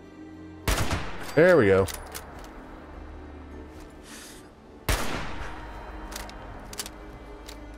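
Gunshots from a weapon firing in the video game Fallout 76, a sharp burst near the start and another loud crack later, with a voice talking between them.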